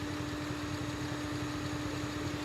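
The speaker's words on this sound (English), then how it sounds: "Whenever I stop revving it, it really was fucking misfiring." A car engine idles roughly after revving stops, a steady low rumble with an uneven, stumbling pulse of misfires running under a constant hum, with no voices.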